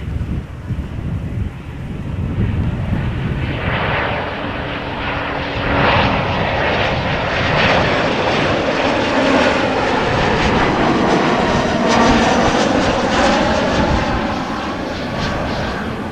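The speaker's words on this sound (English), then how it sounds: "It is an Embraer 190 arriving from Frankfurt after a flight of 53 minutes." Embraer 190 airliner arriving at Amsterdam Schiphol Airport, its jet engine roar building loud and steady for most of the stretch, mixed with gusty wind buffeting the microphone.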